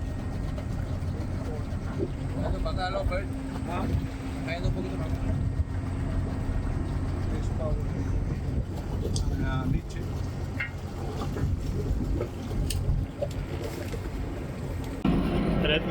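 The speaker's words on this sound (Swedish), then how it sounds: "Ja, vi kör motorn hela tiden." A sailboat engine drones steadily at low pitch throughout inside a Panama Canal lock, with people talking over it and some faint clanks nearby.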